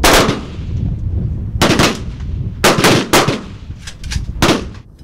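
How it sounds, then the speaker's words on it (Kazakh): Small-arms fire at targets during military training exercises in the Kostanay region steppe: loud, sharp shots and short bursts crack out at irregular intervals across the clip, close by, with no talking. "жауынгерлік даярлықты шыңдау үшін атыс қаруынан нысанаға оқ атты"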